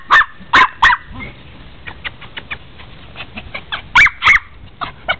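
A blue Miniature Pinscher barking in sharp, high, yappy bursts: a quick triple of barks, softer scattered yips, then two more loud barks close to the listener.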